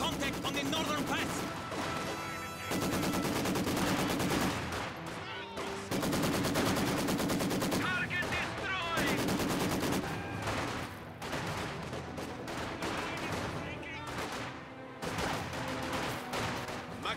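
A Maxim machine gun and other weapons fire in a Company of Heroes 2 battle, with dense bursts of rapid shots, crashes and loud rattling fire that go on almost without a break, while voices call out over the gunfire.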